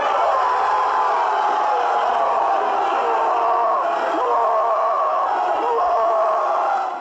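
A football stadium crowd at a Banfield versus Lanús match roars in a loud, sustained wave of shouting and cheering after a goal, steady and dense for the whole stretch.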